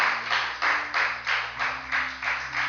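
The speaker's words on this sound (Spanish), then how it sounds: "Bendecile con un fuerte aplauso a Dios si le estás creyendo" A church congregation claps in a slow, steady beat of about seven swelling bursts, blended with a sustained organ or keyboard chord underneath, with no talking.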